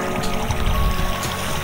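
A small trickling stream runs across a muddy route during rain on a rally stage in Russia, giving a close, steady gurgling and splashing wash with no one speaking.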